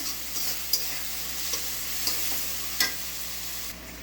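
Spice paste fries in a pan with young pumpkin pieces, skin on, stirred in: a soft steady sizzle punctuated by several sharp spatula scrapes, close up and without talk.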